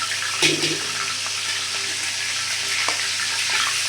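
Pieces of meat sizzle and fry in a pan, a steady hiss running throughout with a brief clatter near the start and occasional faint pops.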